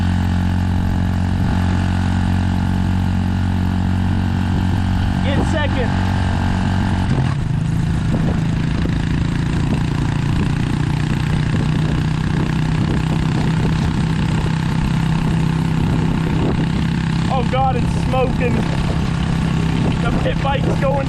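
A 600cc crosskart engine runs steadily and loud close by on a road, with a sustained droning hum that shifts in pitch partway through, while people talk over it.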